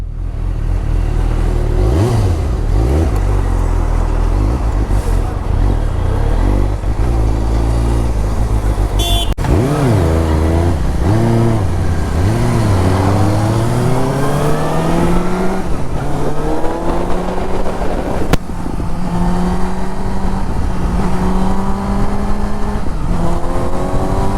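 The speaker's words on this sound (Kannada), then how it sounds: "ಈಗ ನಾನು ಹರ್ಷನ್ ಗಾಡಿ ಓಡಿಸ್ತಿದ್ದೀನಿ." A Suzuki GSX motorcycle ridden on a highway near a toll plaza in Bengaluru, with loud continuous engine drone and wind, the pitch climbing and falling through repeated revs and gear changes.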